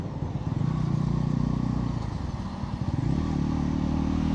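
A 2025 Bajaj Pulsar NS 400Z motorcycle engine drones steadily during a ride in road mode, a loud close rumble that dips briefly around a gear change and then settles back.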